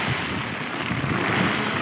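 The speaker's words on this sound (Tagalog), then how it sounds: "Sobrang lakas ng alon." Strong waves and gusting wind during Typhoon Ulysses make a loud, continuous broadband roar that swells slightly over a couple of seconds, with no voices present.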